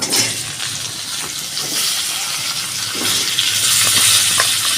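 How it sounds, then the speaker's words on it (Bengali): Whole cinnamon, cardamom and cloves frying in hot oil, a loud steady hiss that swells slightly toward the end, with no voices. "দারচিনি এলাচ আর লবঙ্গ দিয়ে দিয়েছি ফোড়নটা আমি ভালো করে করে নেব"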